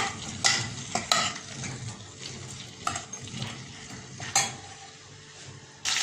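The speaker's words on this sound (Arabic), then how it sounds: "وحطيت كمان يا جماعه شويه من الثوم وقلبتهم كويس اهو" Potatoes and garlic fry in a pan on a home stove, a low sizzle broken by several sharp scrapes and clinks as a spoon stirs them, close and without talk.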